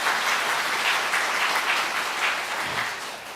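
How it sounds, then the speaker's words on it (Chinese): A church congregation claps together to welcome a new member during a Taiwanese-language Sunday worship service, steady dense applause holding throughout and easing slightly toward the end, with no voices over it. "我们在这边也来拍手欢迎英豪"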